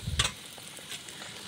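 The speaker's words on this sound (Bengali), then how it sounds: "এদিকে লুচিটা ভাজতে আরম্ভ করে দিয়েছি" Luchi fry in hot oil in a kadai, giving a faint, soft sizzle with a brief louder crackle near the start, quiet and alone.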